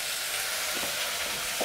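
Onions frying gently for cheese soup, a steady close sizzle with soft crackles and occasional stirring scrapes, no talk.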